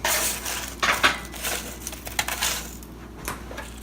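Crispy fried pickles being plated with a fork, bringing light clinks and clatters of cutlery against dishes, close by and without speech.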